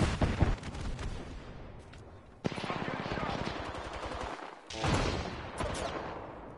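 A charged Sentinel sniper rifle fires during an Apex Legends match, with sharp, loud gunshot blasts standing out among dense gunfire and action noise, one heavy crack near the middle, and voices talking over the combat.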